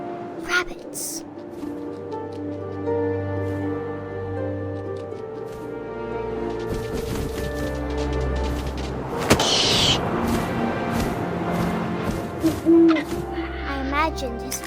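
An owl hoots in the game What Remains of Edith Finch, soft repeated calls heard under a narrating voice, with wind and scattered thumps around them.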